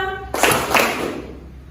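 A group claps together in two quick, sharp bursts, followed by lingering room noise.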